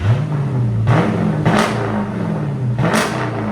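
A 2020 Jeep Grand Cherokee with a 5.7L HEMI V8 on an X-pipe and straight pipes idles loud and close, then blips its throttle three times, each rev rising sharply and falling back to a rumbling idle.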